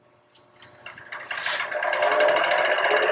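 A bowl gouge rounds out wood on a lathe, its cutting rising from quiet into a buzzing, chattering scrape that grows steadily louder over a few seconds.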